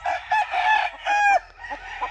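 An inbred Piraña fighting rooster crows loudly and close, in one full, strained cock-a-doodle-doo with rising and falling tones and a drawn-out high middle, alone on a farm.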